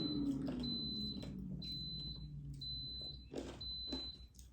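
Kitchen timer on a cooking appliance beeping in a home kitchen: repeated short, sharp high-pitched beeps in a steady on-off rhythm over low background rumble and faint movement noise.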